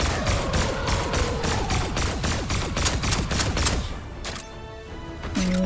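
Rapid gunfire from a Fortnite Save the World weapon, a dense run of repeated shots for about four seconds, then a brief pause and a few scattered impacts and game effects, loud and close with no talk.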